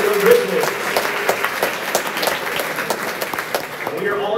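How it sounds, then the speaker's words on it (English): Audience at a tournament awards ceremony applauding in a sustained burst of clapping that stays steady from start to end, moderately loud and somewhat distant, with a voice briefly audible at the start. "Let's give one more round of applause to all the teams who competed in this year's tournament"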